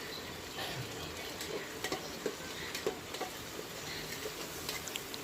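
Two medium tomatoes fry in a pan for potato biryani, a quiet steady sizzle broken by light clicks and taps of stirring.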